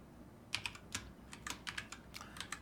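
Quick keystrokes on a computer keyboard, a light irregular clatter of individual taps in short bursts, close and fairly quiet, with no talking.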